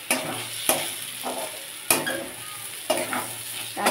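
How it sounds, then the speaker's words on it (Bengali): Fried potatoes, spices and rice being sautéed together for a rohu fish-head curry, a close sizzle broken by regular spatula scrapes against the pan roughly every second, no talk. "আলুগুলোকেও মশলার সাথে কষিয়ে নেব"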